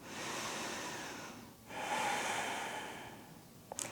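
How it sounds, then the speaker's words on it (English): Slow yoga breathing, one long airy inhale and then an equally long exhale after a brief pause, soft and close with no talking. "Inhaling and exhaling. 2 more breaths."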